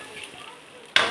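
Mashed dal is poured into sambar in a hot pan, a quiet simmering bubble giving way to a sudden loud sizzling hiss as the liquid hits the hot pan, continuing at full strength.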